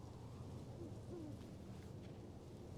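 Thunderstorm in Life is Strange Double Exposure, a low, steady rumble of thunder and rain washing through the scene, with a faint rising tone briefly heard above it.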